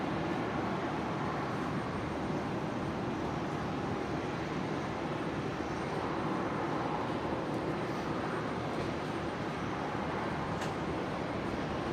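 A KC-135 taxiing toward runway 19 right at Brisbane Airport gives a continuous, even broadband jet roar, distant and unchanging throughout, with no voices.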